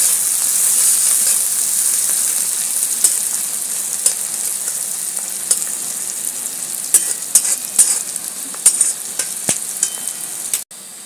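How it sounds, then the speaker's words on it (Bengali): Onions fry in a pan for a crab curry, a loud steady sizzle close by. Scattered clicks and scrapes of stirring run through it, and the sound cuts off abruptly near the end. "দেখুন আমার পেঁয়াজটা ব্রাউন ব্রাউন হয়ে এসছে"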